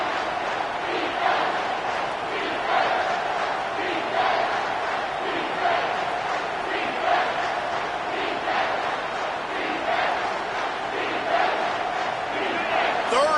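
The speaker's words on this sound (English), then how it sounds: "This crowd will blow out a vocal cord to help this defense." A football stadium crowd roars steadily and loudly in support of the defense, a dense sustained wall of cheering with occasional surges and no clear speech above it.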